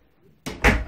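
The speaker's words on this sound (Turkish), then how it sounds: "Kapıyı da kapayım Mira." An indoor door at home swung shut, a soft thud followed by a louder close, alone after quiet.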